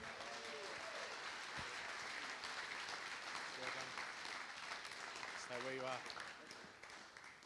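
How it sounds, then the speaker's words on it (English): Wedding reception crowd applauding the best man, a steady sustained wash of clapping from many guests at moderate distance, with brief voices and cheers rising over it. "Another round of applause for our best man,"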